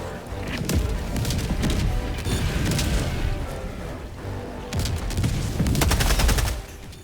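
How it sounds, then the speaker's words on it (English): An orbital barrage in Helldivers 2 lands as loud, continuous explosions, with deep thuds and crackling blasts rolling over one another in heavy waves and dipping briefly before building up again. "Firing orbital barrage, clear the area."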